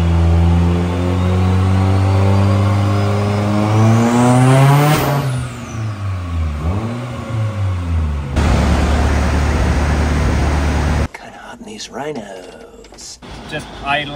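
A built turbo Toyota 3SGE engine in a car on a dyno revs hard with rising and falling harmonic whine, loud and close, then cuts to steady broadband noise and clattering bumps with possible voices.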